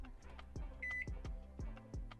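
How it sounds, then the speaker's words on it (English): A small microwave oven running inside a car gives one short, clear electronic beep over a low, rhythmic thumping hum, fairly faint and with no voices. "it beeped right away"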